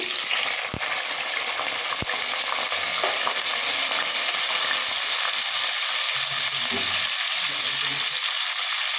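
Sliced onions and green chillies sizzle in a pan with a steady, loud frying hiss, broken by a couple of sharp clinks early on and some stirring, with no talking.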